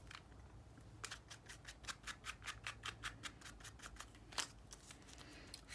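Scissors snip steadily through a handmade paper gift card at close range, a quick run of about a dozen crisp cuts in even rhythm over a quiet room, with no talking.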